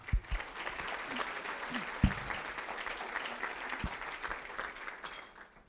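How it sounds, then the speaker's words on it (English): Audience applause at a 2019 Nurses Day awards ceremony: a steady wash of clapping from a large crowd that holds through the clip and tapers off at the end. "Please join me in a round of applause for our nominating committee."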